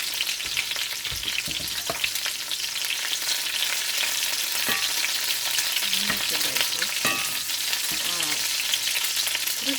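Calamari frying in hot oil at home, a loud, continuous close sizzle and crackle with occasional stirring clatter, no talk.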